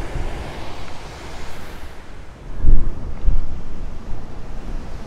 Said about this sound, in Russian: Нет, это не ПВО работает, это так волна фигачит.